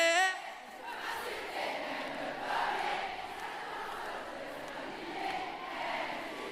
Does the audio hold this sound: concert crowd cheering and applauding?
yes